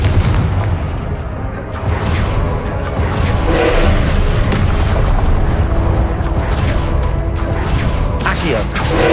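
Repeated Confringo blasting-spell explosions in Hogwarts Legacy, a string of booming bursts and crackling impacts over a constant rumbling game battle, with a voice talking now and then.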